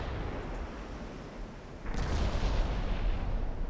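Naval artillery in the warship game Ultimate Admiral Dreadnoughts fires a heavy booming salvo partway through, a dense rumbling blast that swells out of a lower background roar and keeps thundering to the end.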